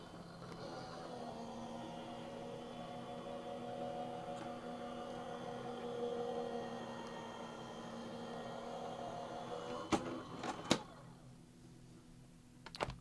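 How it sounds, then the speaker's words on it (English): An electric die cutting machine runs a stencil plate through during papercrafting, giving a steady, even mechanical hum at close range, with a couple of sharp clicks near the end before it quietens. "And then I will run this through my die cutting machine."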